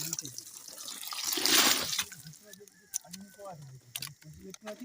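Water poured out at dawn beside a Sundarbans forest fishing spot on a freezing morning, a brief rushing splash that swells and fades within a couple of seconds, with people talking around it.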